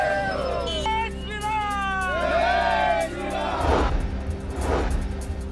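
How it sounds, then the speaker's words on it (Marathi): Party workers celebrate an election win with gulal outside an office in Sangli, a crowd roaring and whooping over a loud siren-like wail, voices swelling into a dense cheer toward the end. "गुलालाची उधळण करत कार्यकर्त्यांचा जल्लोष"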